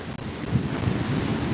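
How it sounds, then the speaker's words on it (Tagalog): Storm surge waves crashing at Nato port in Sagñay, Camarines Sur, Bicol, a loud rush of surf mixed with heavy wind buffeting the microphone, brief and close. "Ang laki ng alon"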